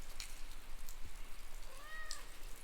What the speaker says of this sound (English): Yeah, just meowing.